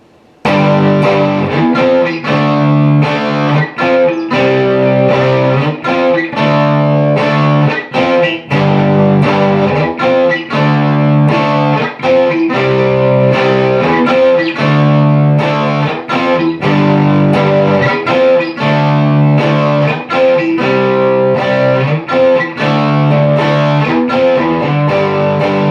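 Distorted electric guitar rhythm part, third chorus: loud, thick palm-muted chugs and driving chord hits in a steady rock pulse, sustained throughout with no voices.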